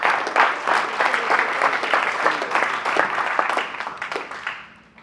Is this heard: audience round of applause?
yes